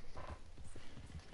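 A horse in Red Dead Redemption 2 clip-clops along in a brief, quiet run of hoofbeats, with a faint whinny mixed in.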